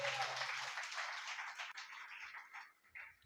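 A church audience at a Telugu sermon bursts into loud, dense applause that fades gradually over about three seconds, with scattered claps trailing off at the end.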